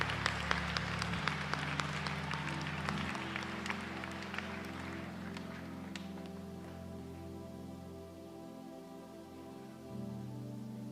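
A congregation claps in a brisk burst during a church prayer service, thinning out after a few seconds, while a steady sustained musical drone continues underneath.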